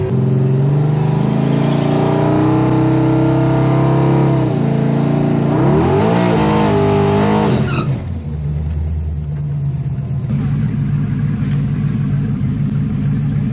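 A twin-turbo Monte SS drag car on a trans brake roars loudly at high revs, its engine tone bending sharply upward before cutting back near eight seconds, then settling into a rough, lumpy rumble close by.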